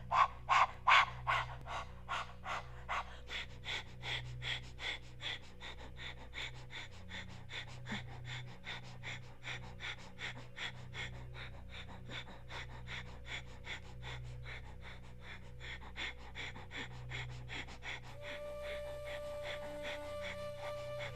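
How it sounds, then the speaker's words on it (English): Rapid rhythmic breath-of-fire breathing during a yoga class, a fast steady train of forceful exhalations, loud at first and then fainter and continuous over a low hum. "Lift the chest, lift the legs, and start to do breath of fire."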